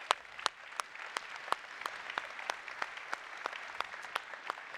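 Audience applause at the Nutanix .Next tech conference closing session in Denmark: one person claps sharply and regularly close by, over a softer, diffuse wash of crowd clapping in the hall.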